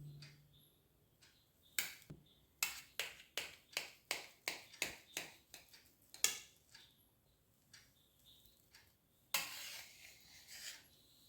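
A cooked jackfruit dish being cut with a knife on a board makes a quick run of about a dozen crisp, rhythmic taps, then a few scattered knocks and a final scraping stroke. The sound is close but fairly quiet.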